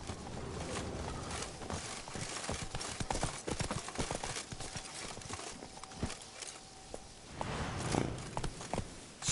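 Roach the horse in The Witcher 3 walks with steady, rhythmic hoof clip-clops over a busy ambient game background, at a moderate distance.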